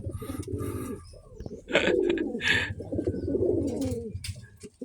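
Pigeons coo in low, throaty rolling calls, several overlapping phrases close by, with brief higher chirps mixed in.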